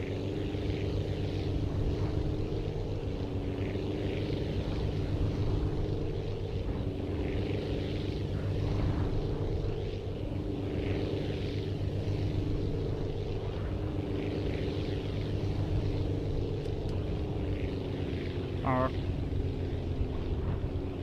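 Steady propeller aircraft engine drone from a plane flying in the video game Aviassembly, a constant loud hum with a voice talking over it.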